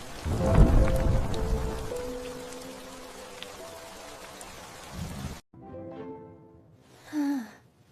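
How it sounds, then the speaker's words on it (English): Thunderstorm with loud rolling thunder and steady rain, strongest near the start, then a sudden drop to quiet before a brief tonal sound at the end. "The storm goes away."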